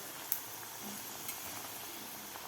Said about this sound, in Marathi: थोडासा गोल्डन कलर होईपर्यंत आपल्याला तळून घ्यायचे आहेत